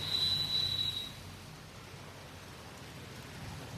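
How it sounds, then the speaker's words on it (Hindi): Heavy rain pours down steadily on a stretch of road in a monsoon downpour, a broad constant hiss with no talk over it. "गाइस देखो कितनी तगड़ी बारिश हो रही है।"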